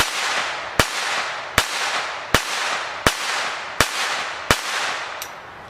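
A Beretta Model 418, a tiny pistol firing Fiocchi .25 ACP ammunition, pops off seven sharp, evenly spaced shots about three-quarters of a second apart, each crack followed by a short ringing decay.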